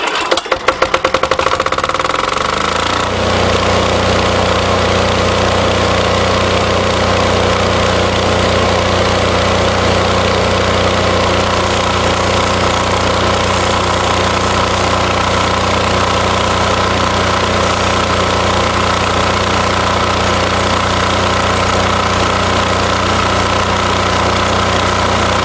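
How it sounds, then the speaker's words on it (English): A welding generator cranks over and catches, then settles into a steady, loud droning run with a constant low hum that continues alone for the rest of the stretch. "Time to weld. Start the generator."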